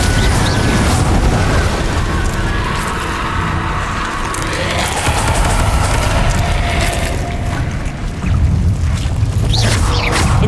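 Spell blasts and fiery explosions from Hogwarts Legacy gameplay, with repeated booming bursts and crashes over a dense, loud, continuous game soundscape throughout.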